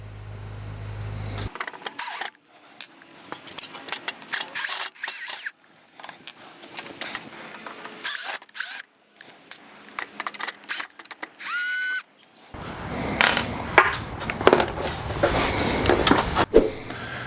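Screws being backed out of the side mounting of an RV awning during a fabric replacement, heard as a run of intermittent mechanical clicks and driver whirs with pauses, close by, ending in a louder burst of handling noise.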